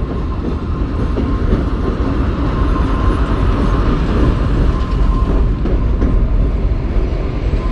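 A train rolls past at a railway station, its steady loud rumble and rhythmic wheel clatter continuing throughout with no one speaking.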